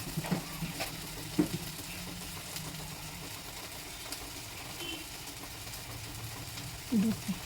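A spoon stirs a cauliflower dish in a pan, giving faint scraping knocks over a low, steady sizzle, with a few louder clinks spaced out near the start and end.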